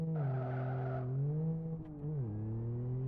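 A car engine in the racing game Live For Speed holds a steady buzzing drone, dips and shifts in pitch as revs change, and a brief tyre skid cuts in near the middle.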